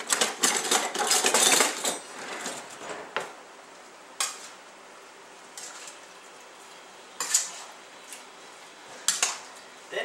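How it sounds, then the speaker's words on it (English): Ingredients for green tomato relish are mixed together in a bowl with metal utensils, giving a loud burst of clinking and scraping at the start, then sparser, separate clinks and taps at intervals. "So now we're going to mix everything together."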